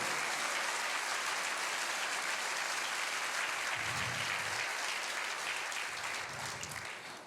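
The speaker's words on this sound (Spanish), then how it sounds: "Si va a aplaudir, déselo fuerte al Señor." Worshippers in a church service clap together for several seconds, a steady crowd applause at moderate volume that thins slightly near the end, with a couple of low thumps midway.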